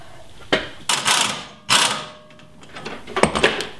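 A ratchet wrench tightens a bolt on a coil spacer during a suspension install, giving several short bursts of clicking separated by brief pauses, close and moderately loud.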